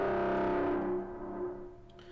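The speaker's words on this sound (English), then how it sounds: "See, it's a pretty big fat reverb," An Arturia EMS Synthi V preset plays a thick, sustained tone soaked in a big internal reverb, fading into a long washy tail with some distortion-like grit.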